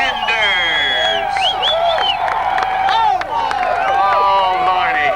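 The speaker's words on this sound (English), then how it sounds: "give her a big round of applause for Aubrey Sanders" A car show crowd in 1992 Brighton, Missouri, applauding and cheering a bikini contestant, with steady loud clapping under shouts and whoops throughout.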